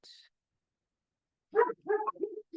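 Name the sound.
dogs barking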